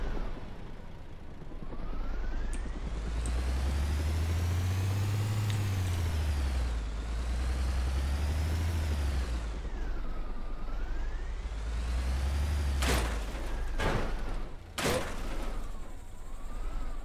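A Stryker armored vehicle in a video game drives on and near a bridge, its engine droning steadily and rising and falling in pitch, with sharp clanks and bangs near the end.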